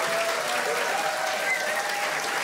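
Steady audience applause at a cultural evening at the Ottakringer Brauerei, the clapping dense and even at moderate loudness from start to finish with no voices on top.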